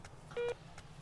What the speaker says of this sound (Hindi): मैं एक फोन लगाता हूँ